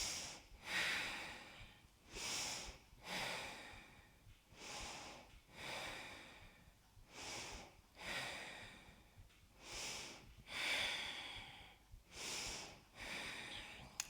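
Slow, deep yoga breaths repeat in a steady rhythm, alternating long audible inhales and exhales, close and soft, with no talking.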